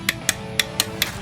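Five sharp metallic clicks from a torque wrench tightening bolts on a boat with a big block engine, spaced roughly a quarter second apart, close and distinct over a quiet background.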